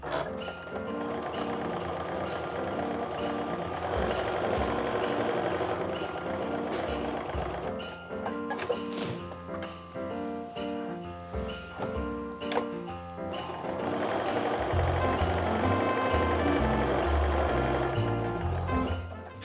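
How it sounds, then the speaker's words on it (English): A sewing machine runs down both sides of a quarter-inch seam in two long bursts with a brief pause between them. Its steady, rhythmic motor whir sits under other sound throughout. "I'm going to sew up and down both sides using a 1/4 inch seam"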